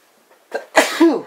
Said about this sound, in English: And a sneeze.